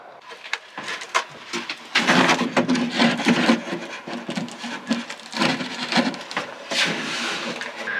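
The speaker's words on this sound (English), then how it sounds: "he's waiting on me to run his saw" A saw cuts cedar siding in a workshop, producing loud, rough rasping bursts that come in irregular strokes, separated by brief pauses, with no talking.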